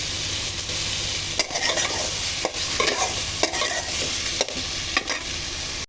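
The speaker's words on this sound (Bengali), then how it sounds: "এখন আমি একটু হালকা ভেজে নেব, অল্প তেলের মধ্যে আমি ভেজে নেব।" Taro pieces fry in a little oil with turmeric and salt, giving a steady close sizzle while a utensil stirs and scrapes the pan at regular intervals, with no talking.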